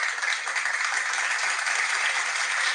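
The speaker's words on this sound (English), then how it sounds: "give yourself a round of applause" A round of applause from an audience, steady dense clapping that holds evenly from start to finish with no talking over it.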